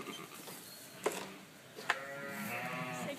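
Charolais lambs bleating while being weighed: two short bleats about a second apart, close and clear, followed by a longer wavering bleat, with faint rustling and handling in the background.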